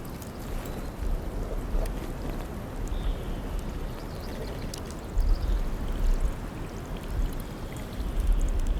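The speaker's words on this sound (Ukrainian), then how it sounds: "Я вилею воду, яку набрав зі стоячого джерела, та поповню запаси свіжою водою." Water from a stagnant spring is poured out in a steady, rushing splash outdoors in the Carpathian mountains, with gusts of wind buffeting the microphone throughout.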